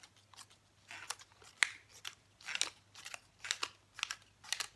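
Scissors cut paper for a paper owl craft in a series of short, crisp snips repeating in a steady rhythm, close and fairly quiet, with no talking.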